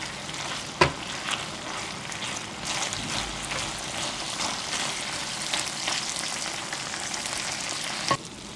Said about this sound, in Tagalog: Tapos lutuin na natin yung tapa.